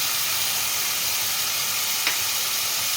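Ground turmeric, chilli and cumin fry together in a pan for a prawn curry with potato and pumpkin, giving a loud, steady, dense sizzle throughout, with one brief scrape partway through.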